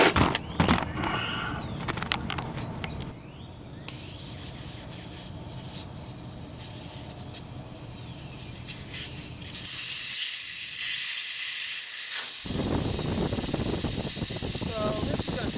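Air hisses steadily out of a 35-inch tire through an open Schrader valve with the core removed, a continuous bright rush that shifts and swells partway through, with someone talking over parts of it.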